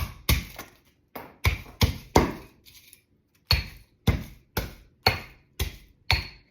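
Garlic cloves crushed in a small hand press or crusher for sauerkraut: a series of about a dozen sharp, close knocks and crunches in irregular rhythm, each decaying quickly, with short silent gaps between them.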